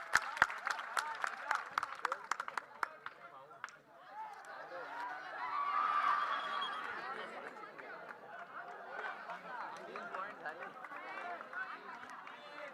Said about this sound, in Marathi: भाऊ साळुंके साठी एकदा जोरदार टाळ्या होऊ द्या